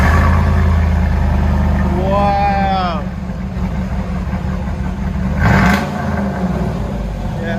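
A cammed Chevrolet Silverado engine rumbling at idle through a test muffler, with a choppy, lumpy low drone throughout, a brief rev near the middle and a voice speaking over it.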